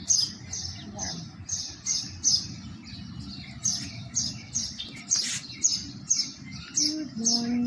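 Birds chirp outdoors in a quick run of short, bright, repeated calls close by, over a low, steady background rumble.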